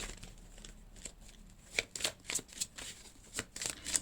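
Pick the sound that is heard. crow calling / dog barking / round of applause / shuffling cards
shuffling cards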